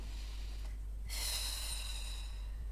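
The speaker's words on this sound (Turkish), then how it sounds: "derin bir nefes al" A single deep breath is drawn during a knee strengthening exercise, a soft, close rush of air that swells briefly and then fades over a low, steady background hum.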